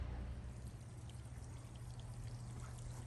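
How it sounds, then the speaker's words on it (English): Water trickles steadily from a garden drip irrigation line in a vegetable bed, a faint, even hiss that holds unbroken throughout. "Let's check the drip line."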